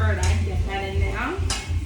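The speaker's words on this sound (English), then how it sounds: "Stir that, get that in there." A spoon scrapes and clinks against a pot while honey sauce is stirred. Two sharp metallic taps stand out over a steady low rumble.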